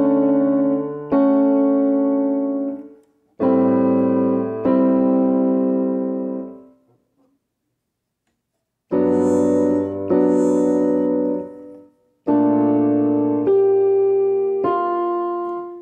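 Piano playing a slow chord progression: sustained chords struck one after another, each ringing and decaying, with a pause of silence midway, close and alone.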